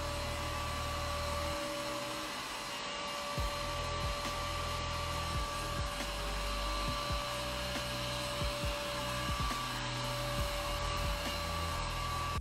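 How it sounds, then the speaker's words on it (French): Quiet robot vacuum cleaner running in an apartment, a steady whirring hum with a constant high whine, broken by occasional soft bumps and clicks. "vous entendez même pas qu'il y a un aspirateur, enfin c'est ouf."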